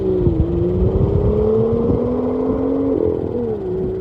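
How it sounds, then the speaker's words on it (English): A manual BMW M2 pulls through gear shifts, its engine tone climbing and dropping with sharp exhaust pops and crackles between gears, loud and close. "just the sound it makes in between gears, or when you let off the throttle, the pop, it sounds so cool"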